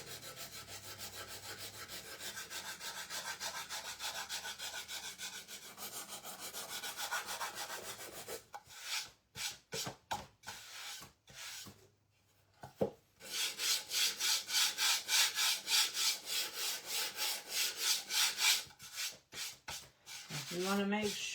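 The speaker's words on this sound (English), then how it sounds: "so I'm going to sand right here" A small wooden shelf sitter is sanded by hand, first as a long continuous rubbing, then as loud, rhythmic back-and-forth scraping strokes up close, with no talking.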